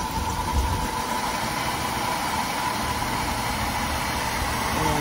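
Vehicle engine idling steadily after a jump start at an outdoor auction, a constant even rumble with a faint high whine, no talking.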